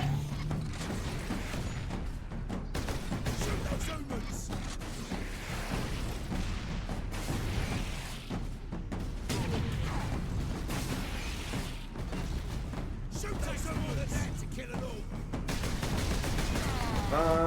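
Gunfire and mechanical battle noise fill a Space Marine video game fight, with repeated bursts, booms and clanking over a dense, constant rumble lasting the whole stretch.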